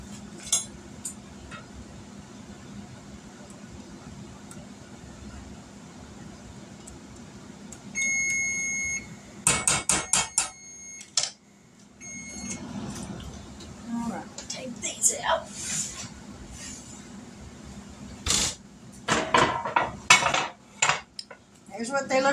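A metal pan of turtle brownies comes out of a home oven with clanks and clatters of pan and rack, a short beeping tone sounding among the metallic knocks, while a person talks between the bursts of noise.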